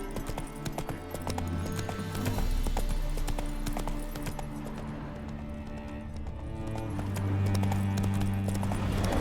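A horse's hooves clip-clop steadily in The Witcher: Hearts of Stone, a loud, continuous rhythmic trot set over a background of game music.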